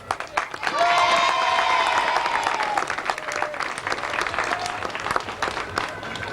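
A large crowd at the opening of the Avalanche ride applauds and cheers loudly, with dense, sustained clapping that swells early and then carries on steadily before easing slightly.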